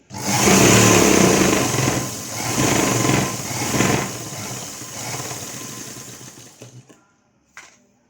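An electric sewing machine runs in steady bursts while stitching the lining of a baby frock, a loud whirring hum that rises and falls for several seconds and then stops, followed by a brief faint whir.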